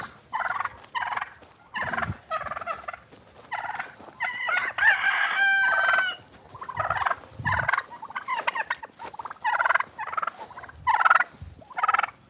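Roosters on a farm with turkeys around, crowing in several long calls through twelve seconds of continuous gobbling and clucking from a crowd of fowl nearby, loud and busy with no talk.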